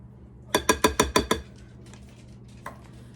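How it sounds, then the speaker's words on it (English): A spatula knocks against a mixing bowl as buttermilk is stirred into batter. Six quick, sharp clinks come in a steady run, and one fainter knock follows after a pause. The sounds are close and there is no talking. "I'm just going to use a spatula to mix this in."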